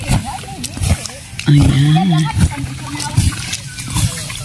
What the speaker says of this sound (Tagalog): Bubusan pa ng konting tubig para mawala yung apoy